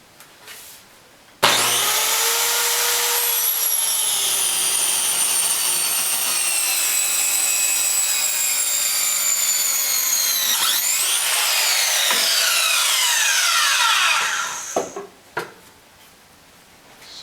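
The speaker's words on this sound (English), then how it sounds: "so I'll use the circular saw." A circular saw rips through a long wood board for a closet organizer tower, loud and close, the motor spinning up, a sustained whining cut of about twelve seconds, then winding down with a few knocks.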